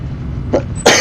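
A short cough, then a louder, harsher cough burst near the end, close by over a low background rumble, in the video game The Stanley Parable.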